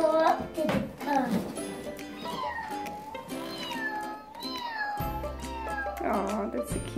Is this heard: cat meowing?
yes